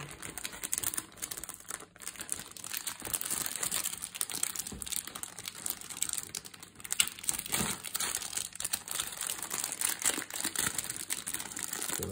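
A tough plastic bag from a 1/350 Academy Admiral Graf Spee model kit crinkles and crackles continuously as it is pulled open, close and fairly quiet, with sharp irregular crackles and no talking.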